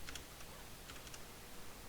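Rapid keystrokes on a computer keyboard while code is written, a quiet close clatter of irregular taps over a steady background hiss.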